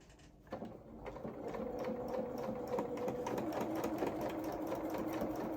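A sewing machine runs a line of top stitching along a seam on small coveralls, starting after a few clicks and then whirring steadily, close up and alone.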